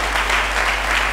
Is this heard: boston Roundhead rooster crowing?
no